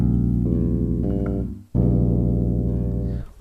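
Bass guitar playing a chord of minor thirds stacked in the low register, a thick, muddy sustained chord that rings loud and close, with a brief dip before it sounds again, and no talk.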